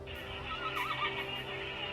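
A horse in a video game whinnies in a wavering, rising and falling call, fairly close, over a steady background hum.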